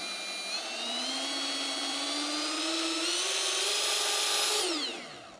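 A Snap-on cordless die grinder runs at variable speed, its high whine climbing steadily in pitch as the trigger is squeezed, then dropping quickly as it winds down, loud and close with no talk.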